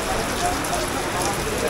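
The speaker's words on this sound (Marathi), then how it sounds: "हे बघा पावसाला सुरुवात झाली आता." Rain begins falling near the Ganpatipule seaside, a continuous close hiss of drops over a short stretch, with a faint murmur of voices underneath.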